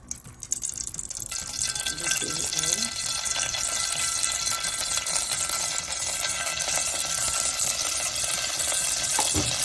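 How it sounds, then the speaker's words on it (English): Vegetable oil is poured into a pot while making homemade stew, giving a continuous hissing, sizzling pour with a faint clatter at the start and steady noise throughout. "So after that, I pour my vegetable oil."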